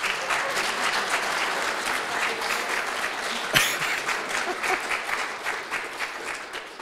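A crowd applauds steadily throughout, a dense wash of clapping with one sharper clap or thud near the middle before it slowly tapers.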